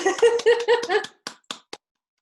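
After a voiced, sung-like phrase, one person gives three separate hand claps, sharp and close, with short gaps between them, followed by silence.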